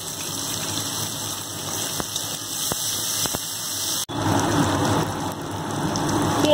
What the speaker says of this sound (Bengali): তো এবার আমি পেঁয়াজগুলো এর মধ্যে দিয়ে দিলাম, দিয়ে এবার ভালো করে পেঁয়াজগুলো একটু ভেজে নেব।